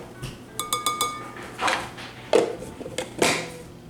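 Measuring scoop tapping and clinking against a bowl while baking powder goes in for an old-fashioned 1930s shortcake, a series of light clinks followed by a few louder knocks, close and alone.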